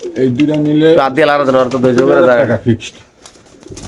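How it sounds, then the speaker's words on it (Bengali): Pigeons coo at a pigeon market where Pakistani and racer birds are sold, their calls mixed with close, loud human talk that fades near the end. "এখানে আছে একটা ব্ল্যাক আশি নাম্বার কবুতর"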